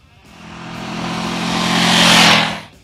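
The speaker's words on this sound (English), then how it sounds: "those dual pipes give it a nice, big, chesty, booming voice" A Ducati Monster 1100 EVO motorcycle engine booms through its dual exhaust pipes, a deep, chesty roar that swells steadily over about three seconds, peaks loud and close, then cuts off sharply.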